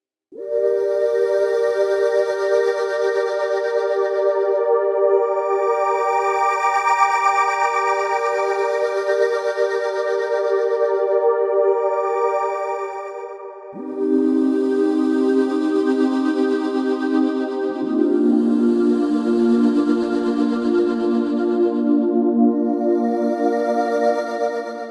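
The EvolverFX synth plugin running wave sequencing in its lane C, a sustained, bright synth tone whose timbre shifts gradually and drops in pitch a couple of times, playing alone with no talk.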